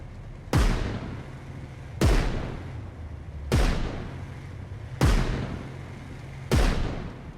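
Artillery strike hitting infantry in the RTS game Systemic War: five heavy explosive booms land at a steady interval of roughly one and a half seconds, each a sharp loud blast with a rumbling tail, over a low droning background.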